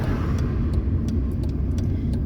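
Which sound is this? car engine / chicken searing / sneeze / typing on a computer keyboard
car engine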